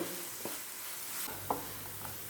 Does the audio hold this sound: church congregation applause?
no